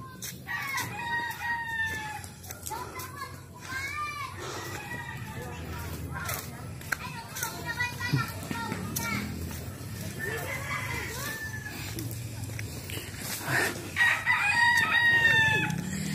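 Many chicks peep and chirp busily throughout during a delivery run, with clucking fowl sounds mixed in, fairly close and continuous, while people talk in the background.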